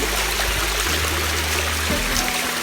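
A waterfall at a farm and nature park flows as a steady, broad rushing wash, fairly loud and constant, with a low hum underneath.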